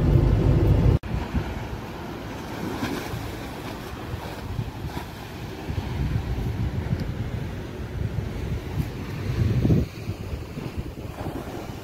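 Steady wind rumble buffets the microphone over the broad wash of surf on a coastal beach, with waves rolling in and swelling louder near the end; no talking.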